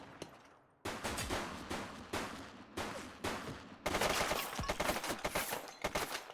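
Bursts of video-game gunfire from a police shooter, rapid dense volleys of shots in several loud runs after a brief quieter opening, growing heavier toward the end.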